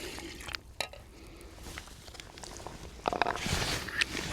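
Water is poured and sloshed in a pot while washing up beside a Japanese camping stove, quiet splashing and scraping with a couple of sharper clinks, close by.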